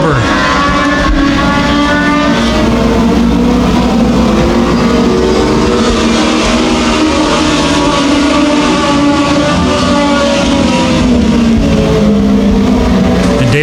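INEX Legends race cars racing side by side at Evans Mills Raceway Park, engines roaring loud and continuous with shifting revs, under steady talk.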